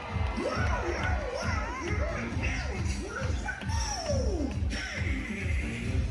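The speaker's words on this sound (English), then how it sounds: "Give a big Buccaneer cheer for Pirate Donald Duck!" A crowd cheers and shouts at an outdoor Disney deck party as Pirate Donald Duck comes onto the stage, the noise steady and lively for several seconds.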